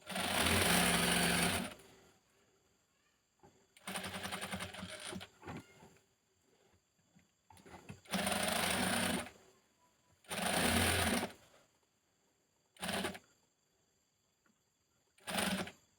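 An electric sewing machine stitches down the folded neck edge of a churidar in several short, loud bursts of rapid whirring, separated by quiet pauses, with faint handling noises between runs.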